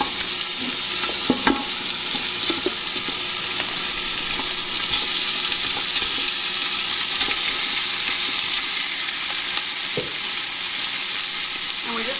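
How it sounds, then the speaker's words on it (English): Beef chunks browning in hot oil in a pan for a Mexican beef soup, a steady dense sizzle with occasional stirring scrapes and small pops, close and continuous, no talking. "So I put a 1 tablespoon of oil in here, and now we're going to add half of our beef chunks"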